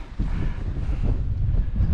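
Steady wind buffeting a microphone at Grisedale Tarn in the Lake District hills, a low rumbling roar that runs continuously through the whole stretch with no voices.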